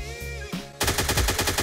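An AKM rifle fires in the video game Miscreated: a rapid automatic burst of close, loud, evenly spaced shots cuts in after a brief quieter moment, with no talk.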